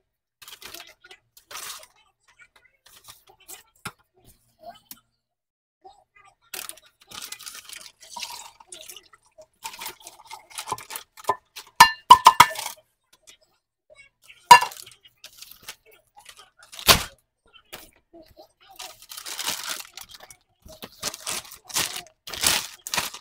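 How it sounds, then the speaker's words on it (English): Kitchen cleanup after cooking a big meal: sparse, scattered clinks of dishes and glassware with occasional drips and splashes of water, sharp close clatters coming in bursts between quiet stretches. "right now I'm just gonna clean the kitchen"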